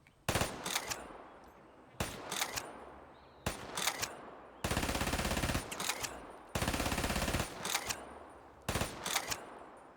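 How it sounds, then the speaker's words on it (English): Full-auto SMG fire from Black Ops 3, sounding in repeated loud bursts of rapid shots, some short and some held longer, with no talk over them. "full auto, where you just hold down your trigger and it fires until you run out of ammo"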